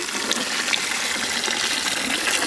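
Water pours steadily into a cooking pot of goat mutton with spices, a continuous gushing splash, close by and fairly loud, lasting the whole moment without pause.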